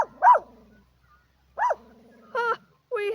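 A dog barks four times with pauses between, fairly close and loud, with no other sound around it.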